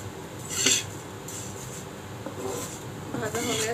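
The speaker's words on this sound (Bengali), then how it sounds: "তিলটা এখন ভেজে নেব" Sesame seeds are dry-roasted and stirred in a pan, making a scraping and rattling sound as the spatula rubs the metal in a few uneven strokes, close by and fairly quiet.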